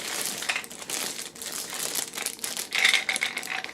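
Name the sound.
dice rattling in a box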